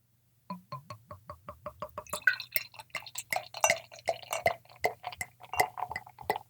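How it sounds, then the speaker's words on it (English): Founders CBS barrel-aged beer is poured from a bottle into a glass: a run of short, evenly spaced drips gives way to a steady, gurgling, splashing pour, all close and moderately loud. "I'm sniffing out the tip of a bottle, so let's pour it and see what we get."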